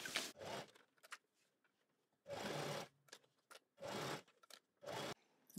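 A sewing machine stitches a trouser zipper seam in four clear, loud bursts, each about a second long, with short quiet pauses and faint handling sounds between them.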